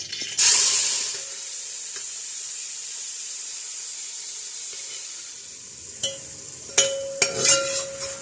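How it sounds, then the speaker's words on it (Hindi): Marinated chicken hits hot oil with golden garlic for chow mein, bursting into a loud close sizzle that settles into a steady hiss, then a few spatula clinks and scrapes near the end. "इसके अंदर ये मैरिनेट किया हुआ चिकन डाल देंगे"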